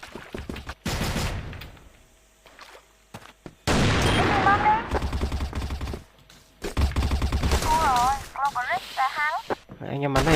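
Bursts of video game gunfire break out in a chaotic firefight, with rapid rattling volleys coming in loud clusters between quieter gaps. Players talk over the shooting, and electronic chirps from the game play near the end.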